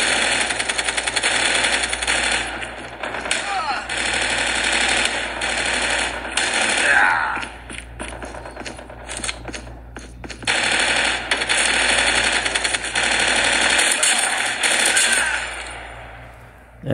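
Rapid automatic gunfire from the mobile shooter Call of Duty Mobile, played on a Huawei Nova 7 phone, loud bursts of rattling shots running almost continuously with brief pauses between volleys.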